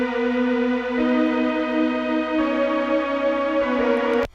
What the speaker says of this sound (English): it's not a bass, it's a pad from Serum